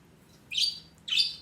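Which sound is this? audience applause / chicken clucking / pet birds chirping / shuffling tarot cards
pet birds chirping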